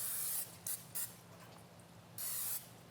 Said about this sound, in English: we're just going to spray it with a little cooking oil